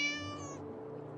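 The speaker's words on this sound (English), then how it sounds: "The cat." A single cat meow from the Neverwinter Nights 2 video game, short and clear with a falling tone, followed by a quiet fading tail.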